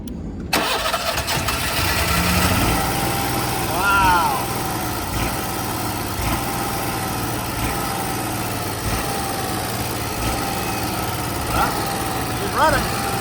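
An engine at a dune-buggy fabrication shop firing up after being primed with fuel, then settling into a steady mid-pitched running drone with brief revs, as voices talk nearby.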